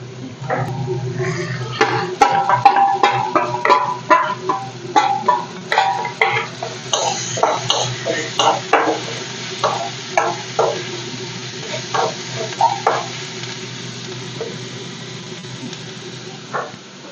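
Chopped green chilies fry in hot oil for a homemade lemon pickle, a low sizzle running beneath repeated clinks and scrapes of a spoon stirring against the pan, busier early and thinning out.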